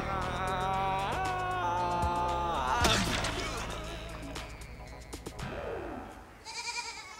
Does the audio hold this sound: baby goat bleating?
yes